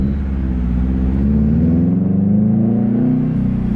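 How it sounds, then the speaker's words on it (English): A Subaru WRX with a Tomei aftermarket exhaust drones with a deep, steady throaty rumble that swells slightly in the middle, close and loud, with no voices. "This Tome is literally the best exhaust you could buy for this car."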